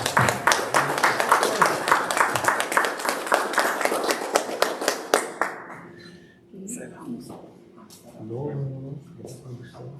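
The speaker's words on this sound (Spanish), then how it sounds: "Y un aplauso para ellos." A room applauds an artisan at a talk: dense clapping for about five seconds with a few sharper single claps near the end, then it fades into quiet murmurs and a voice.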